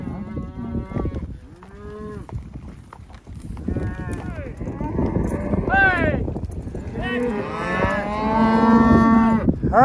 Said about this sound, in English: starting to string these cows now and picking up a few more as we go